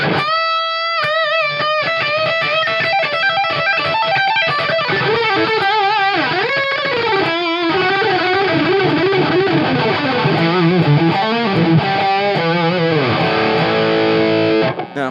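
An electric guitar plays a run of bent and sustained notes through a JHS Angry Charlie overdrive distortion pedal, heavy, thick and saturated, loud and alone.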